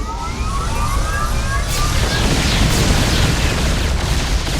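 Yamato cannons fire in the StarCraft II campaign, making a loud, continuous roaring blast wash with rising whine-like streaks and booming impacts layered through dense battle noise.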